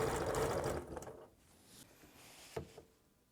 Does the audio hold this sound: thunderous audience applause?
no